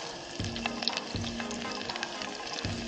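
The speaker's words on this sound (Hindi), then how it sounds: "तेल गरम होते ही इंडियन तड़के का सामान जाएगा भाई।" Whole spices for an Indian tadka sizzle and crackle steadily in hot oil, a dense close frying hiss with a few faint periodic knocks in the background.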